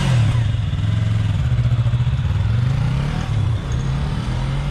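A Yamaha R3 motorcycle engine drones loudly and steadily nearby as the bike pulls away, its pitch rising and dipping slightly with the throttle and no voices over it.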